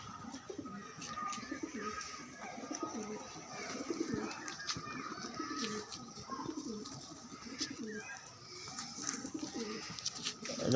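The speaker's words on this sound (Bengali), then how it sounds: "এটা পায়রা দেখো" Old-breed domestic pigeons in a hobby loft coo softly, repeated low rolling calls rising and falling against a faint background hum, several birds heard close but quiet.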